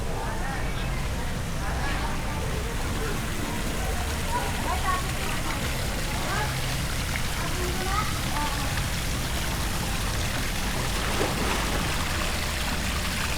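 Running water in a beach resort's shower area makes a steady, even hiss and splatter that continues throughout, with faint voices in the background.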